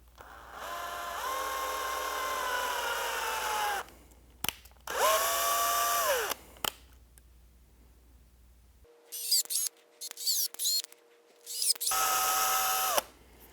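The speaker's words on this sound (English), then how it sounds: "So I'm going to take my drill and the screw, and I'm going to start the screw maybe about halfway in" A power drill drives screws into bracket holes while reupholstering an Allegro reformer, running in several loud whining bursts that rise and fall in pitch, separated by pauses and small clicks.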